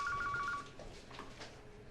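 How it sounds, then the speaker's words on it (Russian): A home landline telephone rings with a short electronic trill at the start, then stops, leaving a quiet room. "Домашний звонит, брать трубку?"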